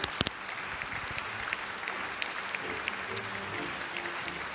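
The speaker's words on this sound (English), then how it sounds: "they deserve a warm round of applause." Spectators at the final of a student debate tournament give a warm round of applause, steady and moderately loud, with a few sharp claps up close at the start.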